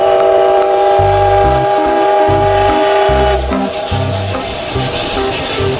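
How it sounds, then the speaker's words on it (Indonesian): A Thomas toy train plays electronic train sounds with repeated short horn toots over a steady chugging melody, loud and close, with no speech. "Yang ini ada kereta Thomas."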